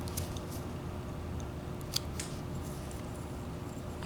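A knife whittles a small carved wooden character face, giving a continuous soft scraping and shaving texture close to the microphone, with a faint sharp click near the middle.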